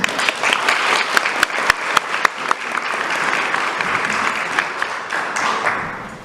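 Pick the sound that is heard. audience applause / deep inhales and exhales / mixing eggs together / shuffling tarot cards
audience applause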